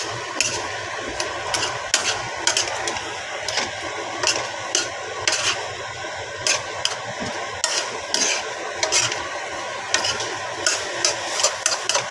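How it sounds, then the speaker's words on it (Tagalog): A noisy kitchen exhaust fan runs steadily while shrimp chop suey cooks, a constant whirring drone broken by repeated short scraping and clattering bursts close by, with no talking. "maingay ang exhaust"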